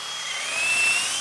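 A power drill bores a large hole into maple wood through a pilot hole, giving a steady, strained high-pitched whir that holds even throughout.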